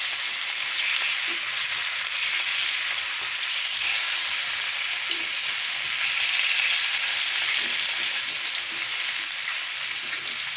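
Fish frying in a pan of hot oil, a steady dense sizzle running evenly throughout at close range, with faint clinks now and then and no talking.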